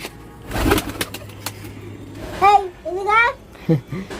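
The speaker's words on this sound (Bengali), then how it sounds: "আমাদের সব পায়রাগুলো এখানে খেতে এসেছে" Soft pigeon coos sound close by as the birds come to feed, mixed with a voice and other talk, with brief fluttery movement noises.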